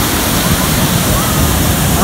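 Ozar Kada waterfall in Rajapur, Konkan, pours down in a steady, dense roar of rushing water that fills the whole moment without a break.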